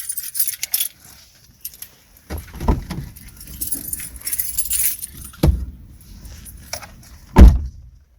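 Honda Pilot smart key fobs jangle in several bursts, with sharp metallic clinks and handling rustles, close by and loud, with no talking.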